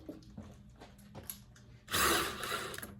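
Several light clicks of a tool working on hose clamps on an engine air intake, then a loud, steady buzz of a power driver loosening a clamp nearby.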